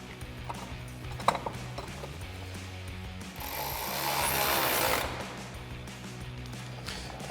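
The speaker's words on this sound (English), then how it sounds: "Then we'll go ahead and tighten that down using our 10mm socket on our ratchet." A ratchet with a 10mm socket tightens a bolt on a Jeep Wrangler JK fender flare, with faint clicks and clunks followed by a steadier, rising whirring rasp, close and quiet with no talk.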